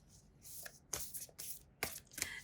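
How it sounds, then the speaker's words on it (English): A deck of tarot cards is shuffled by hand close up, giving crisp, papery riffles and slaps in quick irregular bursts. "let us shuffle some cards here"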